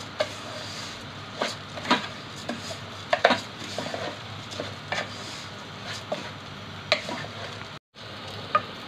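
Rice being sautéed and stirred in a pot, with a soft continuous sizzle under repeated scraping and clinking taps of a spoon against the pot at irregular intervals.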